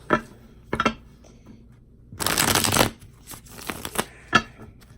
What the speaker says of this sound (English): I want to do 2 more shuffles.